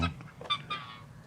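Geese on a Sicilian farm giving a few short, nasal honks close by, one loud call followed by a couple of softer ones.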